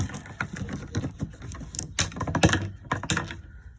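Small stones rattle and clatter inside a motorcycle gas tank being shaken to clean it, with quiet, irregular bursts of clicking and knocking close by.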